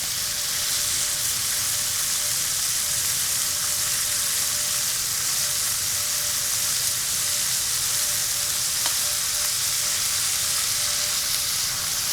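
Pork glazed with soy and cola fries in a pan, giving a steady, close sizzle that stays even for the whole stretch with no talking.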